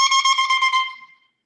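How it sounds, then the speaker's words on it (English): A bare double cane reed, as used for an oboe or bassoon, blown without its instrument, gives a loud, bright buzzing squawk in a few quick pulses that then fades out over about a second. "you have a reed which you blow into, and the 2 pieces of cane will blow together to make a sound like this"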